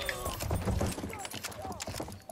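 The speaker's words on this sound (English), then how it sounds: "there's a fucking horse riding around. He's riding off." A horse gallops in the World War I shooter game Battlefield 1, with rapid hoofbeats near the listener over game noise while players talk.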